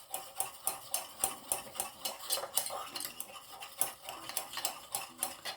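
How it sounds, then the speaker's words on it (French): A foot and hand restorative cream mixture is stirred in a bowl, making a quick run of light rhythmic clinks and scrapes of a utensil against the bowl, moderately faint and close, with no talking. "Alors voilà, je mélange bien."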